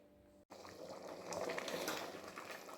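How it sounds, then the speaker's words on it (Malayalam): Mutton stew with first-extract coconut milk and pepper powder bubbling in a pot, a steady close simmering fizz that swells louder after a brief silent cut. "ഇനി ഒന്ന് തിളയ്ക്കട്ടെ"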